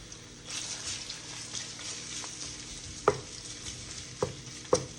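Shrimp and lobster stir-fry in a very hot wok, sizzling continuously up close while a utensil scrapes and clanks against the metal in a few sharp knocks.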